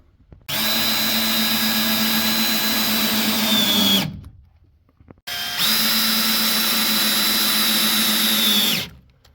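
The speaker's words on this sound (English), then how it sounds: "put a couple more screws in there just to lock this wall down" A power driver runs two bursts of a few seconds each while driving screws into wall framing, loud and close, each winding down as the screw seats, with a short pause between.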